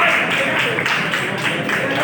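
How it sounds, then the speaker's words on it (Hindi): A group claps together to welcome a team at a first session, dense steady applause filling the whole stretch at close range with voices mixed in underneath. "चलो उनको वेलकम करो, तालियां बजाओ।"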